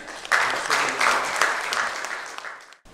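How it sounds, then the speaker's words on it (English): Steady applause from a crowd at a bankers and business meeting, many hands clapping at once, fairly loud and sustained, then cutting off abruptly near the end. "Huge round of applause."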